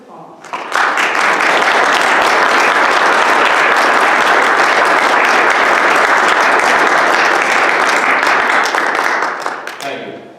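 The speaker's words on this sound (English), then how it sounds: "I think you deserve a round of applause." A crowd at a township board of supervisors meeting breaks into sustained, loud applause that holds steady for nearly ten seconds before fading out quickly.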